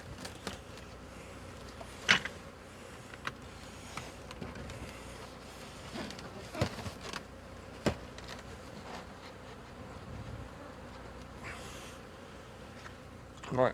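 Honeybees buzzing around a rooftop hive during a cut-out removal, a faint continuous drone broken by occasional knocks and clicks of work nearby.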